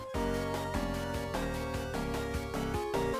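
Warbling, distorted chiptune game music from a faulty clone Sega console, with a pulsing beat and wobbly, smeared tones that sound off-pitch and melting.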